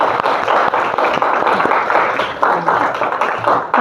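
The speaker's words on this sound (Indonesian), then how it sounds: "mari kita beri aplaus untuk kelompok 1" An audience in a madrasa classroom claps for group 1, a dense, steady patter of many hands that keeps going throughout without any voices on top.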